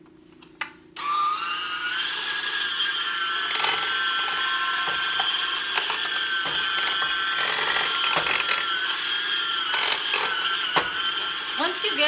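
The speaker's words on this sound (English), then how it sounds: "Now we're going to mix it up with a mixer and just want to get it smooth" An electric hand mixer whirs steadily through cream cheese dip in a kitchen, a continuous motor whine starting after a click and running throughout with slight variations, a voice talking over it.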